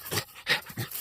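An 11-year-old female dog pants close by in three quick, breathy huffs with short gaps between them, no voices over it.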